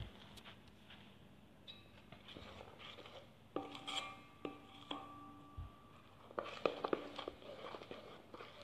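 Rye sourdough starter being stirred in a container, a close, quiet rasping scrape of the spoon repeated in uneven strokes with occasional knocks against the sides.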